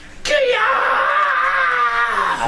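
A human voice lets out a sustained, loud terror scream imitating a monster in full rage during a D&D 5E tabletop game session, a single continuous wailing cry lasting over two seconds.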